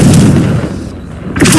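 Confringo fire spell blast in the video game Hogwarts Legacy, a loud booming burst at the start that rumbles and fades, with a second strong impact arriving near the end.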